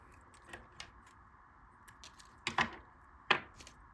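A few small snips as a piece of soft gold wire is cut for tying a fly, about three sharp, close clicks spread over a quiet background.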